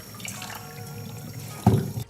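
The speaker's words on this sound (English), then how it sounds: "you want to make sure that you wash the pork ribs until the water runs clear." Tap water runs while pork ribs are rinsed in a sink, giving a soft, steady trickle that swells into a louder splash near the end, with no voices.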